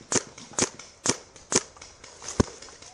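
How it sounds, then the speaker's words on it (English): Five crisp, evenly spaced gunshots in a first-person shooter, about one every half second, then a sharper single shot, each short and snappy against a quiet background. "I figured I'd start shooting their way"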